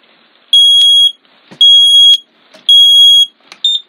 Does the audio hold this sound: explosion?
no